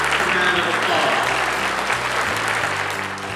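A round of applause at an elementary school assembly, with a crowd of children and adults clapping steadily and loudly throughout, the sound easing slightly near the end.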